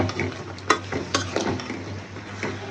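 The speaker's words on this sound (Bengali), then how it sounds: "এবার তরকারি দিয়ে দিতেছি।" Chopped vegetables for a snake gourd curry sizzle and fry steadily in a hot pan, with a few sharp spatula scrapes and clinks as they are stirred, close and moderately loud, no talking.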